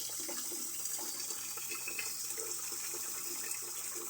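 Water pours steadily into a cooking pot for suman, making a continuous splashing rush close by. No voices over it.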